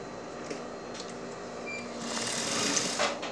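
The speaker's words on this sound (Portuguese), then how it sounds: "E vou costurar aqui." A sewing machine stitches fabric for a drawstring eco bag in a steady mechanical whir that rises and grows louder toward the end, heard close with no talk over it.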